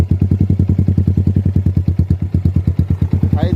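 Rouser 180 motorcycle fitted with an SC Project exhaust idling up close, a loud, steady thumping beat with regular pulses and a faint voice near the end.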